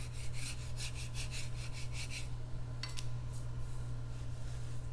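Short rhythmic scraping strokes as residue is scraped off a 3D printed plastic coupling, a quick run of about eight rasping passes followed by a few fainter scrapes over a steady low hum.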